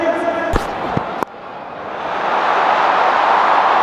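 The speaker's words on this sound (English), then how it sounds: "A lot of noise today in this crowd." Stadium crowd at an IPL cricket final, opening with a few sharp knocks and thuds over the murmur, then swelling into a loud, rising roar.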